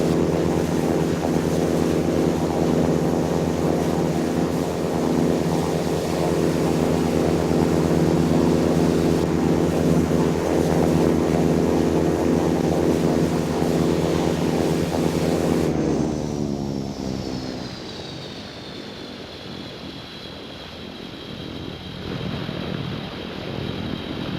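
An aircraft in the Infinite Flight game taking off from runway 26 at Albuquerque during an air show. Its engines hold a loud, steady drone, then abruptly drop to a fading whine with a thin high tone and wind-like rush.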